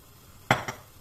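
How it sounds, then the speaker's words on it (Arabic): While stuffing ingredients are mixed with egg and oil in a bowl, a utensil knocks twice against the bowl, two sharp close clinks in quick succession over quiet background. "نخلط كلش مع بعضها"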